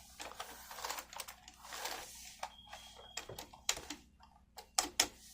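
Typing on the keyboard of a Tandy 200 portable computer, a run of quiet, irregular key clicks and taps heard close in a still room, with no talk.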